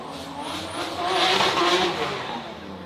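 Drift cars sliding through a corner at an SRD Drifting the Plains competition, a steady roar of engines mixed with broad tire hiss that swells in the middle and stays loud throughout.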